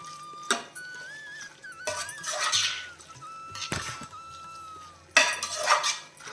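Onion and tomato masala being sautéed for a mutton curry, with metal spoon scrapes and clanks against the pan over a faint sizzle, coming in several bursts, while a high tonal whine runs through the background.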